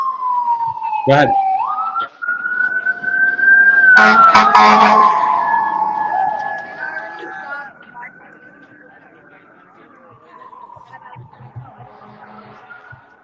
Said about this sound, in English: I'll wait till this ambulance goes by, or a fire truck